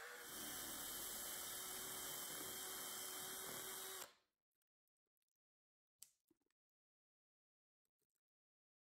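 A power tool boring a large hole in a DIY Bluetooth speaker box runs loud and steady for about four seconds, then stops abruptly, leaving near silence broken by a few faint knocks and handling sounds.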